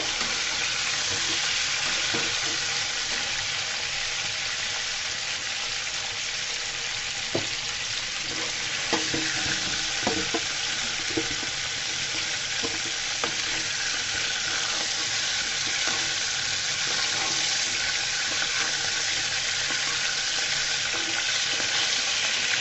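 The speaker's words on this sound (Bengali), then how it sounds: "সমস্ত মাংস সুন্দর করে আমি ভেজে নিয়েছি" Chicken meat sizzles steadily in a pan, a dense continuous frying hiss with scattered scraping knocks from stirring and no one talking.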